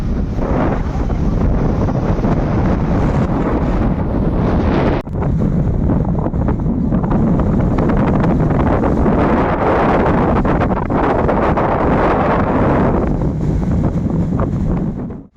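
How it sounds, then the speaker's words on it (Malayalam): Strong wind blasts straight into the microphone near Manakula Vinayagar temple in Pondicherry, a loud continuous rumble and roar that barely lets up for the whole stretch, with a brief dip partway through. "ഭയങ്കര കാറ്റാണ്."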